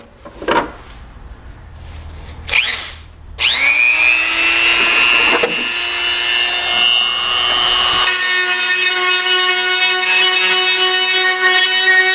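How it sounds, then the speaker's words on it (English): A Dremel rotary tool trims an RC car body for suspension clearance. After a few light taps it spins up into a loud, steady, high whine that holds, then shifts slightly in tone as it cuts into the plastic. "Dremel out a little bit in the back here as well"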